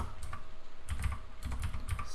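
Typing on a computer keyboard, quick clusters of soft key clicks in short bursts with brief pauses, fairly close and quiet, with no voices.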